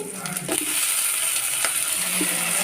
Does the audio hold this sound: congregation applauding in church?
no